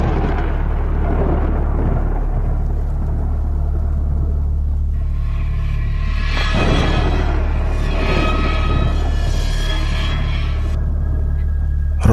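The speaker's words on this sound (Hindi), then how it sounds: "बिजलियां कड़क रही थी" Thunder rolls through a cartoon storm scene, a deep continuous rumble that swells into louder crackling bursts midway and then fades back to a steady low roar, with no talking over it.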